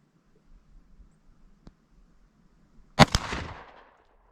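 A single Beretta pistol shot at a shooting range, fired at a 25-yard target: one loud, close crack with a short ringing tail, after a quiet stretch broken only by a faint click.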